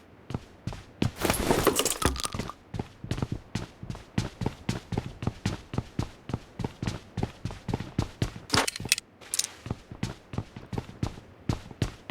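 Rapid, evenly spaced sharp shots crackle in a steady rhythm through a Bigfoot video game match, with a couple of louder, denser bursts near the start and again later.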